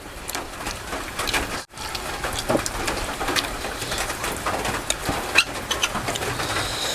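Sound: rain falling

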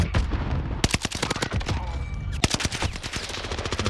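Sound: gunfire in a video game

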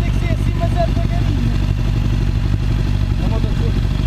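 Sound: Suzuki Bandit 600 motorcycle engine revving

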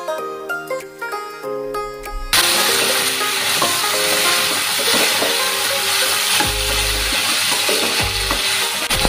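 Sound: frying jackfruit with spice paste in a pan

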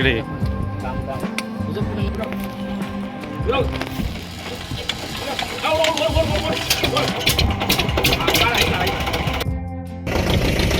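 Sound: boat engine starting and idling

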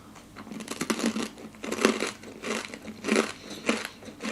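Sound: crunching Coco Crunch Nut coconut nut snack

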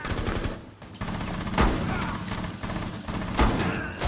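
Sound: gunfire in a video game

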